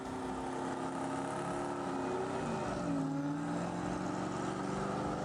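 A car doing a burnout at a New Jersey car show, its engine revving hard and holding high with a sustained roar and shifting pitch, loud and steady throughout with no talking.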